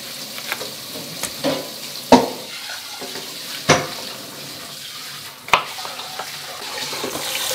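Dishes are washed at a sink under running water, with a steady tap hiss and a few sharp clatters of cookware knocking against the basin.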